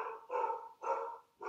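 A dog barking three times in a steady rhythm, clear and fairly close, with no one talking.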